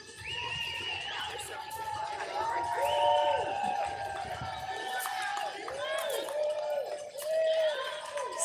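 Crowd along the Broad Street Run course in Philadelphia, voices and cheers mixed with whistles and horn-like tones, moderately distant and continuous, with a person talking nearby.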